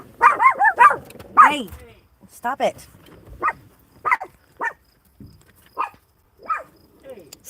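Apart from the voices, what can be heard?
dogs barking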